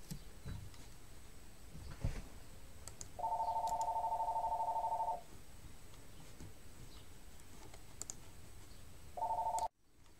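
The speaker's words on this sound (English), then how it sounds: "Excuse me, phone's ringing." A telephone rings in two bursts of steady electronic trilling in a quiet room, one long ring lasting about two seconds, then a shorter one near the end, with faint room noise between.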